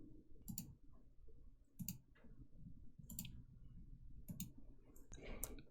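Mouse clicks on a computer while working in Unity, five sharp, close clicks spaced about a second apart over a faint background hum, ending in a brief cluster of lighter taps.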